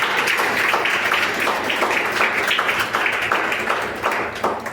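Sustained, dense clapping from a large church congregation, loud and continuous with no talk over it.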